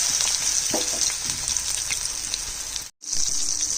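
Bottle gourd leaf fritters stuffed with prawn paste frying in hot refined oil, a close, steady, bright sizzle and bubbling that runs on with a brief cut to silence near the end.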